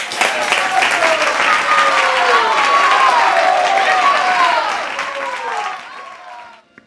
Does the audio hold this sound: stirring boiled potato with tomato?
no